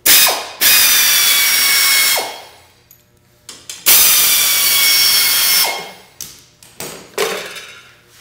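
Power tool or ratchet backing out 3/8 bolts from the plastic shield of an Ariens snowblower: two long loud whirring bursts, each about two seconds, separated by short clicks and taps, close by with no talking.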